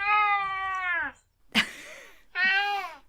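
A cat meows twice, loud and close, each call a drawn-out harmonic cry with a brief rustle or thump between them and no talk.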